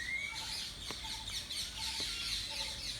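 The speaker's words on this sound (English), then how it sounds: "Yes, a parrot." Parrots squawk and chirp in short, high calls scattered across a few seconds, with a couple of sharp clicks, moderately near with steady background noise and no talk.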